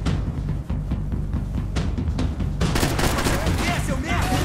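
Bursts of gunfire in Max Payne 3, the video game, rapid shots clustering into a louder, denser volley in the second half, close and punchy, with no talking.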